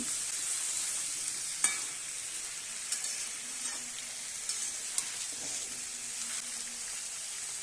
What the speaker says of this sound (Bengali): আলু, কুমড়ো আর বেগুনটাকে আমি একটু তেলে নাড়াচাড়া করে মিশিয়ে নিচ্ছি